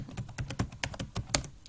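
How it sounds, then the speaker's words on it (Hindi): Quick, irregular keystrokes clatter on a computer keyboard while text is entered in Excel, close and crisp, with no talking. "ये टेक्स्ट जो मैंने टाइप किया है"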